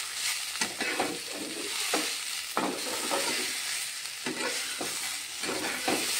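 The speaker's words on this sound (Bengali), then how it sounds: "তো বন্ধুরা আমি আবার একটু নেড়ে দিচ্ছি" Dry fish curry being stirred in a pan, a steady sizzle with repeated scraping strokes of a spatula at a loose, even rhythm, close and fairly loud.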